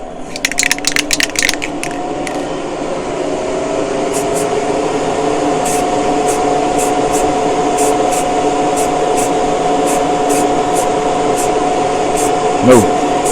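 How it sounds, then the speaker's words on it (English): A steady fan-like whir from an old fan hums continuously, with bursts of spray paint hissing early on and a few faint clicks over the running airflow, while a Corgi Hillman Imp police car model is spray painted. "Let's switch the old fan on and get going."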